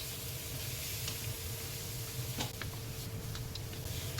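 Boneless chicken thighs and onions sautéing in a pan for Japanese chicken curry give a steady, even sizzle with faint ticking crackles throughout, fairly quiet and with no talking.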